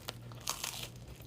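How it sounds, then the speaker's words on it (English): A person biting into a homemade honey-sweetened snack and chewing it, with a few close, crisp crunches spread across a quiet moment. "Oh, I'm gonna take a bite."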